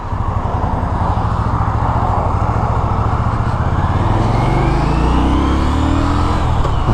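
A 2016 Victory Octane performance motorcycle accelerates hard, a loud, close engine roar climbing steadily in pitch with a dense rumbling tone throughout, no talking.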